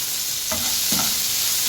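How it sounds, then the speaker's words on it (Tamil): Chopped onion frying in oil with mustard seeds, chana dal, green chili and curry leaves, a continuous close sizzle broken by two soft stirring scrapes. "இந்த வெங்காயம் கொஞ்சம் வதங்கட்டும்."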